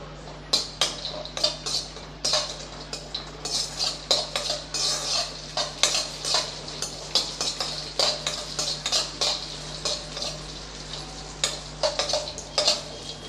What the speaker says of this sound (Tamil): அதில் முந்திரி ஒரு கைப்பிடி முந்திரி ஒரு கைப்பிடி திராட்சை சேர்த்துக்கலாம் இது ரெண்டையும் நம்ம வறுத்து எடுத்துக்கலாம்